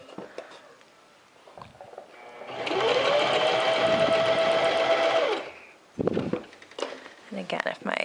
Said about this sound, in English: I'm just going to sew nice and slowly.